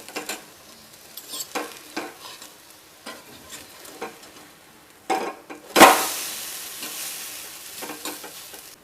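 Gujarati handvo batter in a pan on low heat, just flipped: scattered scrapes and clatter, then a sudden loud sizzle that bursts up and slowly fades into a steady frying hiss.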